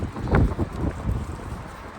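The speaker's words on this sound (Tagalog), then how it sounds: "Sobrang lakas ng hangin ngayon," Gusty wind buffets the microphone in low rumbling bursts, uneven and close, with brief stronger blasts rising and falling.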